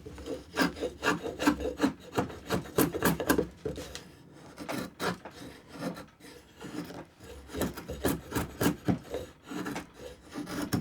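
A draw knife's flattened back is stroked over a sharpening stone, giving repeated rasping rubs in steady bursts with short pauses, close and moderately loud, with no voices.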